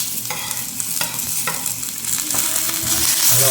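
Tomatoes dropping into hot oil with green chilies, a loud close sizzle punctuated by a few sharp stirring knocks, the frying swelling toward the end.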